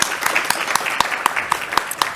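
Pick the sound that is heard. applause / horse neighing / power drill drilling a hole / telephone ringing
applause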